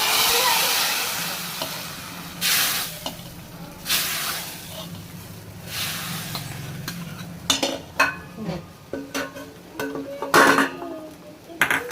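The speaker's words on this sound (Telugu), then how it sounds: "ఇప్పుడు ఈ తాలింపు సాంబార్లో వేసేసుకోవడమే" Fried tempering is tipped into a pot of sambar and stirred, giving a soft hiss followed by a series of sharp metallic clinks and scrapes of a spoon against the pot, close and intermittent.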